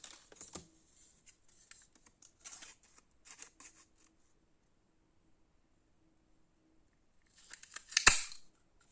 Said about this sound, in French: prendre ma paire de ciseaux